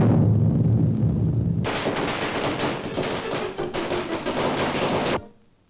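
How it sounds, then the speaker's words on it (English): A cartoon atomic bomb goes off after a low rumbling lead-in, a loud, sustained crackling blast of rapid bursts lasting several seconds before cutting to near silence. "It's an atomic bomb."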